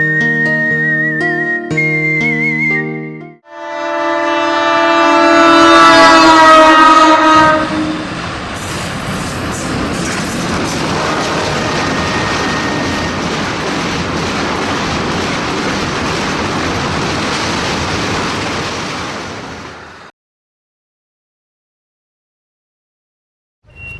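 A train at a railway station sounds a long horn, then rolls past with a loud, sustained rumble and rattle of wagons for many seconds before cutting to silence.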